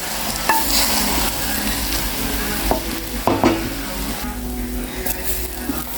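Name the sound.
stirring fried rice with soy sauce and chicken in pan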